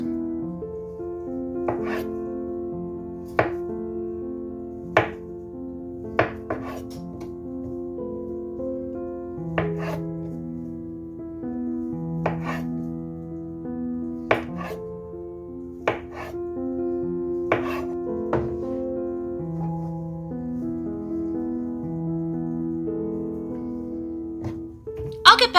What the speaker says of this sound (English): I'm going to cut this tofu into cubes.